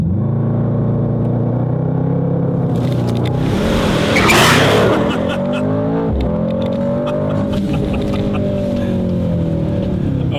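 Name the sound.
Mercedes-AMG car accelerating at full throttle in race start mode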